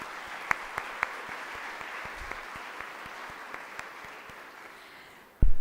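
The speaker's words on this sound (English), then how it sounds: "Let's have another round of applause" Audience applause at an education awards ceremony, a steady bed of crowd clapping with a few sharp, distinct claps close to the microphone, cut off by a loud thump at the end.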